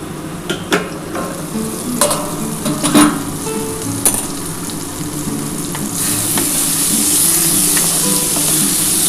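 Eggplant fries in a covered pan; a few knocks and lid clatters come first, then a loud, steady sizzle swells and holds once the lid comes off, with no voices.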